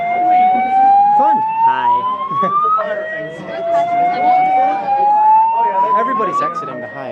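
A fire alarm sounding at a Hyatt hotel during an anime convention, a loud rising electronic sweep that repeats twice with harmonics, under people talking nearby.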